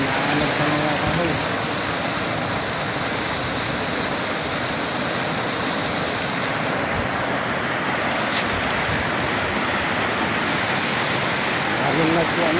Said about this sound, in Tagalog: Sobrang laki ng ilog ngayon.